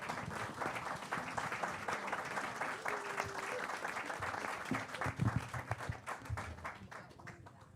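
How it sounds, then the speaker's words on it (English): Audience applause for a discussion panel at an evening event on settlement houses, a steady clapping crowd filling the room for several seconds before thinning out at the end. "Let's give our panel a round of applause."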